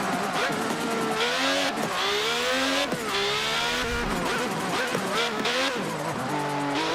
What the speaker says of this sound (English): Ayrton Senna's MP1988 MP4-4. And just listen to that engine sound.